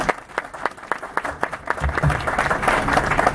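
An audience applauds a poet at a recital, a steady dense patter of many hands clapping that holds at an even level for a few seconds, with a faint voice underneath toward the end.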